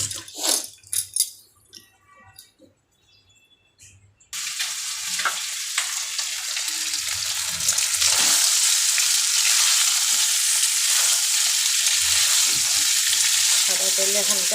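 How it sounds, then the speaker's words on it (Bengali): Chicken pieces for butter chicken or chilli chicken drop into hot white vegetable oil after a few soft kitchen clanks and brief quiet. A loud, steady frying sizzle starts abruptly and continues to the end. "এখন এটাকে আমি সাদা তেলের মধ্যে ভাজবো"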